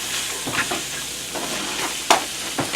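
Chicken sambusa filling fries in a pan with a steady soft sizzle, broken by a few sharp scraping stirs of a utensil against the pan, no voices.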